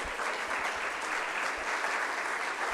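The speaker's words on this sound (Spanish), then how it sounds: "Dale una ofrenda de palmas al que es santo" A church congregation applauds, a dense, sustained wash of clapping that stays full and even from start to finish, with a faint voice barely present underneath.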